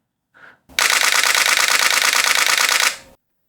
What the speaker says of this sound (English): I think that shutter noise on the camera has a excellent ka-chunk